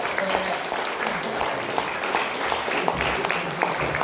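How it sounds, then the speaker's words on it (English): An audience at a debut folk music performance breaks into a steady round of applause, dense clapping that carries at an even level from start to finish. "So I think they should have a round of applause."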